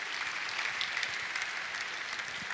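Steady applause from a seated audience fills a convocation ceremony hall, a dense, even patter of many hands clapping throughout.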